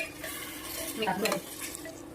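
Chicken for a biryani is tipped into a pot and mixed, giving a close, continuous scraping stir over a soft sizzle, with a slightly busier burst of movement midway and no talking.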